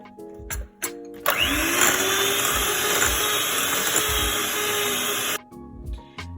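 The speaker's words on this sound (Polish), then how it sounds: "Dodaję skórkę z jednej cytryny startą. I jeszcze raz zmiksujemy." An electric hand mixer whirs steadily for about four and a half seconds, beating Spanish magdalena batter with freshly grated lemon zest, starting and stopping abruptly, with quieter kitchen sounds before and after.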